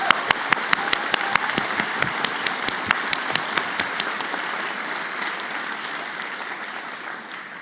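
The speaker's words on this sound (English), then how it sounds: "more applause." Law school commencement crowd applauding, a broad wash of clapping with one loud nearby clapper striking a fast steady beat that stops partway, the rest fading gradually.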